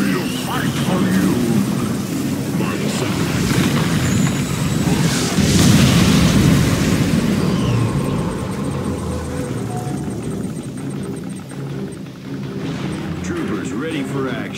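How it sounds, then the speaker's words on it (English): An ion cannon fires in the video game Command & Conquer 3: Kane's Wrath, setting off a loud, dense rumble of blasts that swells and lingers. Game voices speak over the roar. "Ion cannon activated."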